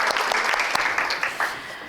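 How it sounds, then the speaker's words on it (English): An audience claps for the team that led the opening prayer, a dense patter of applause filling the room for a couple of seconds with a few sharper claps standing out. "Can we give them a round of applause?"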